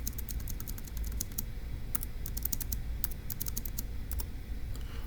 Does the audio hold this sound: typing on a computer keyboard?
yes